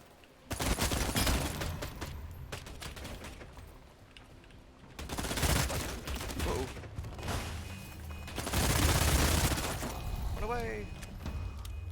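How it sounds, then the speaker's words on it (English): Enemies firing in the game Sunless Skies, heard as loud bursts of rapid shots that come in several waves and fade in between, with game effects mixed in. "They're shooting me."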